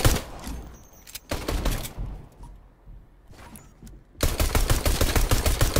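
Bursts of rapid pistol gunfire ring out in the Fortnite video game, several loud clustered volleys separated by short quieter gaps, with a heavy sustained barrage near the end.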